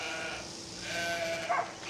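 Sheep bleat in Trundle sheep country, a flock ready for shearing, with a couple of close, clear calls over a quiet farm background near the end.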